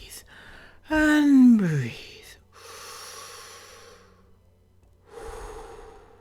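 A person takes a deep breath, a loud close inhale and sighing exhale with a pitch sweep, and quieter breaths follow after a pause.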